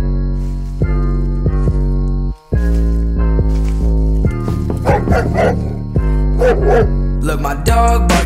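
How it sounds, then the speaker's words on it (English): A dog barks repeatedly at a door in the middle of the night, a run of loud, close, evenly spaced woofs with brief pauses between bursts, with no talking. "my dog barking at the door"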